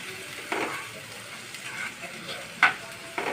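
Potatoes fry in a pan with turmeric powder, giving a soft, steady sizzle broken by a few brief stirring scrapes.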